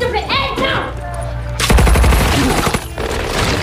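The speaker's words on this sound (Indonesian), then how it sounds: "Maka saling tembak pun terjadi di antara mereka." Automatic gunfire in a World War II shootout from the film Overlord, with loud rapid bursts that start partway through after a stretch of rumbling and movement, and tense film sound under them.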